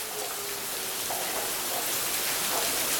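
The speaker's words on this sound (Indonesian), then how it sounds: "Hujannya sangat deras sekali" Heavy rain pours down in a dense, steady hiss that stays loud and constant throughout, with no voices.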